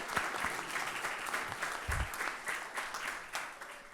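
Scattered, fairly faint applause from a city council meeting audience as an officer walks up to be promoted to lieutenant, with uneven claps over a few seconds.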